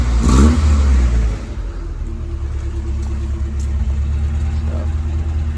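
A truck engine with a full long tube header, 2-inch exhaust and Rumble brand muffler dumping behind the axle revs on a cold day, a loud rumbling roar that swells at the start then settles into a steady heavy idle.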